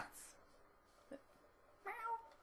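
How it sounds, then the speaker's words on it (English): Cats meow softly a few times in a short indoor moment, one brief cry followed by a longer, higher meow near the end, with a person talking faintly nearby. "Can you hear the cats?"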